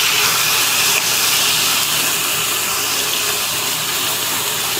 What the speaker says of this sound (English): We're going to go in with our chicken and start frying that off.